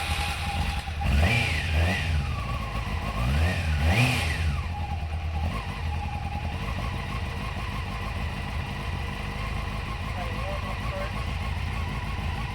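A motorcycle engine runs warm without choke, revving up twice in quick rising swells before settling into a steady mid-pitched idle, close by, with a person talking over it.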